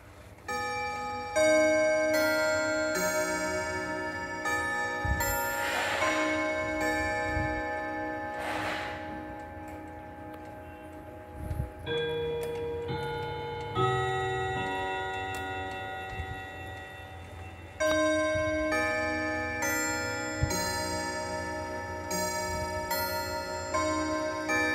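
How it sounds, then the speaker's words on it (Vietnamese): French Vedette chrome-plated clock with a steady, even ticking that continues throughout against a ringing, tonal musical background, close and clear with no speech. "em xin phép được mời các bác thưởng thức âm thanh của chiếc đồng hồ"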